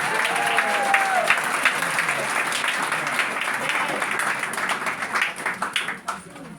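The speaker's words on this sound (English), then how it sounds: "Give yourselves a round of applause." A rally crowd demanding justice claps and cheers together, dense applause mixed with shouting voices and a brief whistle early on, then breaking into scattered individual claps as it dies down.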